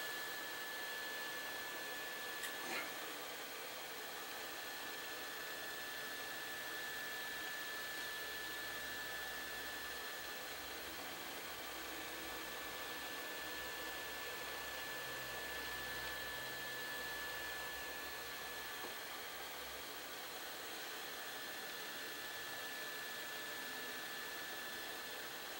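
A heat gun blows a steady, even whoosh with a faint whine as it heats tape on a cracked TV screen, running continuously at a constant level with no talking.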